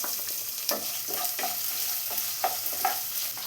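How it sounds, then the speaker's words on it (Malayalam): Chopped onion, ginger and green chili sizzle steadily in a pan, with soft intermittent stirring clicks and scrapes over the constant frying hiss. "ഇതിലേക്ക് ഒരു സവാള ചോപ്പ് ചെയ്ത് വെച്ചതും കൂടെ ചേർത്ത് കൊടുക്കാം."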